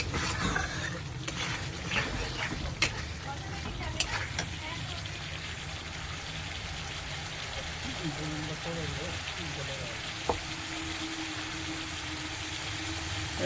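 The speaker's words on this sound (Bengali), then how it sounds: "এবারে জল দিয়ে দিচ্ছি।" Water poured into a pan of frying spices and potatoes with eggplant, giving a steady broadband sizzle and bubbling throughout, with a few sharp clicks of a utensil against the pan and a voice talking faintly underneath.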